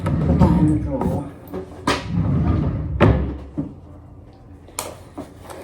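A handbag drops into a drawer with soft thumps and rustles, then the drawer closes in a few wooden knocks and slides nearby, with several sharp clunks scattered through.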